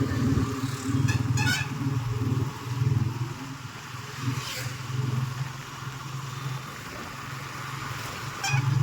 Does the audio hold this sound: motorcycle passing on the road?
yes